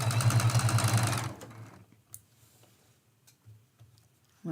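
A domestic sewing machine stitches quilt strips together in a fast, steady mechanical run that lasts just over a second, then stops, leaving only faint clicks and handling noises.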